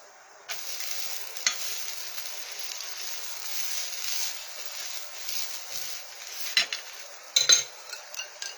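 A paratha roasting with Amul ghee on a pan, a steady, close sizzle and fry throughout, with occasional utensil scrapes and clinks as it is pressed and turned.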